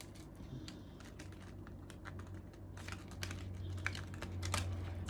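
Cards from a new rose tarot deck bought in Kathmandu are shuffled close up in a steady run of soft, papery riffles and taps, with a low hum underneath and no talking.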